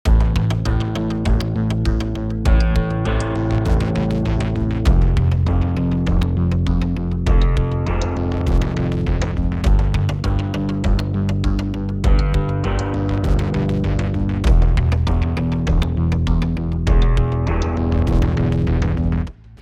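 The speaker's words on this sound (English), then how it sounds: "Next up, the same instruments from the melodic group, but this time I just only use the bass." Bass parts from the melodic instrument group of Sample Logic's Cinematic Guitars Infinity run as a loud, sustained, rhythmic instrumental bed with regular note attacks and no voices, cutting off sharply at the close.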